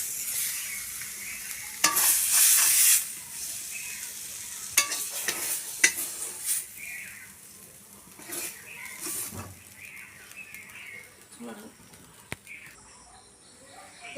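Black taro (kalo kochu) frying in a pan in a village kitchen, with soft sizzling and occasional stirring scrapes of the spoon, moderately close and steady, punctuated by brief clatters.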